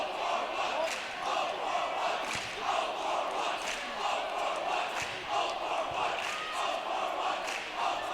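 A college student section, the Dew Crew, cheering at an NCAA Division III women's basketball game in DeVos Fieldhouse: a sustained roar of crowd voices swells and pulses rhythmically in chant-like waves, loud and steady throughout.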